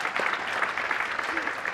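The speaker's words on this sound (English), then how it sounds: "Can we have a big round of applause for Lady Anne Dodd" An audience applauding for an honoree at The Happiness Show 2021, a dense, steady wash of clapping from a crowd, close and loud throughout.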